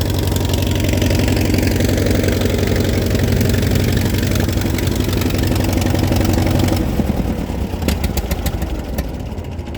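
A cold engine runs loud and rough at raised speed, then drops to a lower, steadier idle near the end, with a few sharp ticks.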